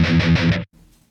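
Electric guitar through the Big Bastard v2.3 amp sim on a high-gain setting, a thick distorted chug of rhythmic palm-muted notes for about half a second, then abrupt cutoff to near silence.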